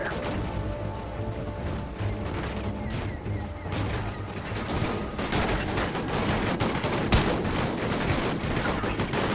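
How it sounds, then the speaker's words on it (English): Sustained bursts of automatic gunfire from a Call of Duty Ghosts firefight, dense and loud throughout, with sharp cracks and mechanical clatter layered over a steady battle din. "Lay down suppressing fire."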